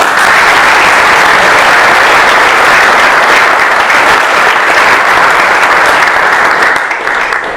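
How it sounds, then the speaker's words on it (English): A large audience at a public talk claps loudly and steadily in a dense, continuous wash of applause that eases slightly near the end. "I think they deserve a round of applause."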